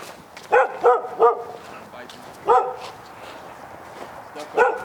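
A dog barks near and loud in a house's yard, three quick barks, then a single bark, then another after a pause, with someone talking between them.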